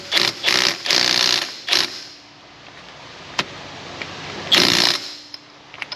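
Impact wrench driving the nut on a performance alternator pulley, heard as several short, loud, close buzzing bursts at the start and another burst near the end, with quiet clicks between and no talk.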